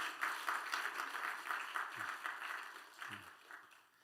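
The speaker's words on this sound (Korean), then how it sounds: "우리 박수로 우리 도훈이 힘차게" Congregation at an evening revival service in a Korean church clapping together, a moderate patter of applause that fades gradually, with brief talk mixed in.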